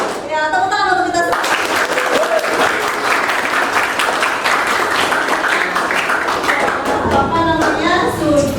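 Students in an Indonesian class applaud their group, breaking into dense, sustained clapping after brief children's voices, the clapping fading at the end as voices return.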